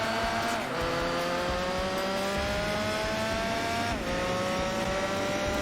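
Race cars in Gran Turismo 4 during an endurance race: a constant loud engine whine with two audible gear shifts, dense and continuous, with no talking.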